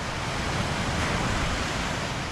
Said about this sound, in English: You can see that outer bar pretty well defined right here where those waves are crashing.